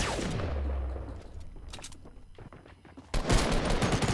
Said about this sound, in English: Shooting behind you.